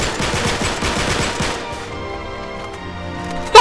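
Rapid gunfire in the action video game Uncharted 3, a loud burst of automatic shots for about a second and a half, then fading into a quieter tonal background with a sharp hit at the end.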